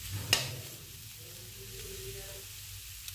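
A spoon scraping through boiled potatoes and durun greens in a pan, one sharp scrape near the start, then soft, low sizzling and quiet stirring, with no talk.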